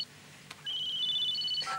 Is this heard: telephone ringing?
yes